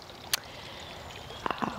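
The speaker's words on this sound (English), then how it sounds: "I have the accent of the sound of water, the little water fountain up on top." A small garden water fountain trickles softly in the open air, a faint continuous splash with a few sharper drips and gurgles near the end.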